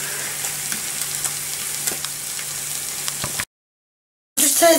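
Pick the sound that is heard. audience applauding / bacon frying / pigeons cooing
bacon frying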